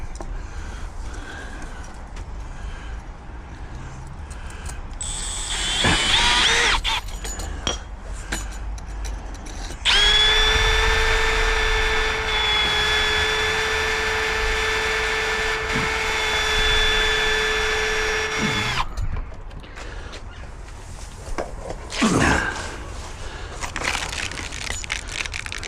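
A power drill whines and grinds into brick in several bursts, boring a 5mm hole for a key safe, the longest a sustained steady drone, loud and close.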